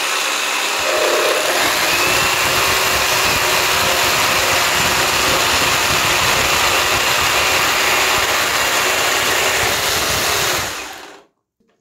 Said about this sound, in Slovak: No a teraz vyskúšame rez bez predkmitu